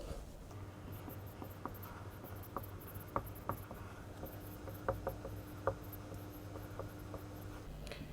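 A pen writes a topic heading on paper, giving faint, soft scratching with a few light taps over a quiet background hum.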